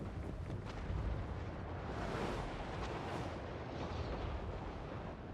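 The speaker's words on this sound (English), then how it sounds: "Hear those cannons roar!" Dwarf artillery cannons firing in a Warhammer Old World battle, heavy rumbling booms and blasts rolling together in a dense, loud wash of noise.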